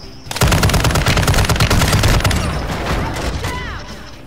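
Loud, close machine-gun fire in Modern Warfare 2 multiplayer, a rapid continuous burst that thins into scattered shots and ricochets.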